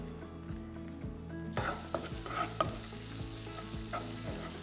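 Garlic, ginger and green chilli frying in a pan for a dhaba-style methi malai matar, a steady close sizzle with repeated stirring scrapes and clinks throughout.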